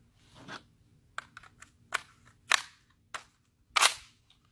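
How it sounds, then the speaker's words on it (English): A suppressed handgun firing a string of rounds, heard as sharp, dry cracks spaced irregularly about half a second to a second apart, each a brief loud burst with quick decay and no voices. "20 rounds with the suppressor."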